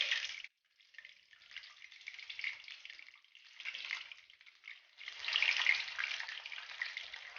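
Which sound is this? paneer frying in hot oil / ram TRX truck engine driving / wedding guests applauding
paneer frying in hot oil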